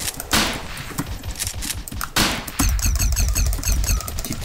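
Rifle shots ring out in the Roblox game Combat League, a series of sharp repeated bursts of gunfire, close and loud, with rapid clicking fire in the latter half and no talk over it.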